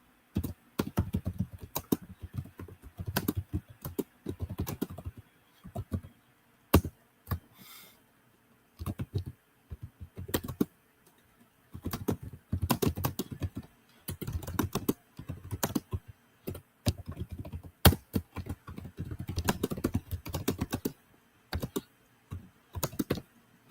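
Keys on a computer keyboard clatter in irregular bursts of rapid typing separated by short pauses, close and fairly quiet, with no talking over them.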